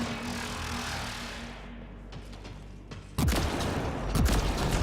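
Rapid bursts of gunfire and booming impacts ring out in the Mass Effect: Andromeda video game, starting moderate and then erupting into loud, dense fusillades in the final seconds.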